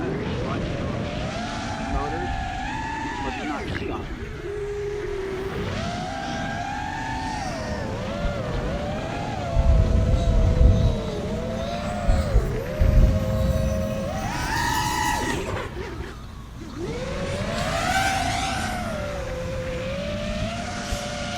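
Motors of an iFlight Nazgul 5 HD FPV drone whining in flight, a loud, close electric buzz that constantly rises and falls in pitch as throttle changes, with a person talking over it.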